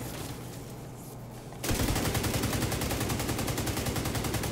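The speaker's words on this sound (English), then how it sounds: "He just started to shoot a grenade" Rapid sustained weapon fire in The Division 2, a dense run of evenly spaced loud shots starting abruptly after a quieter stretch and continuing steadily to the end.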